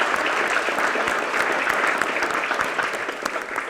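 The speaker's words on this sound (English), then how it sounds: "can we do a big round of applause for our chiefs here?" A big round of applause for a panel of fire chiefs, loud sustained clapping from a packed audience, steady and dense throughout.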